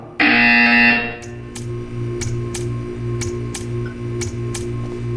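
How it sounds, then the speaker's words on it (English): A loud electronic buzzer in the video game Portal 2 sounds for about a second, then a faint steady hum remains with a series of sharp ticking clicks spaced at regular intervals. "You will hear a buzzer."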